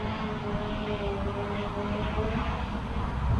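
A Ruko F11 GIM2 4K GPS drone flies on an automatic waypoint route, its steady whirring motor hum continuous and fairly loud against outdoor background noise.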